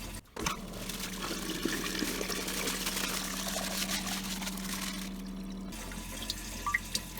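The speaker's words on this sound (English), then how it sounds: "The mixture will be added right now while your bowl here is filling." Water runs from a hose into an RV toilet bowl, a steady splashing and hissing flow with a low hum that stops abruptly before a few faint drips.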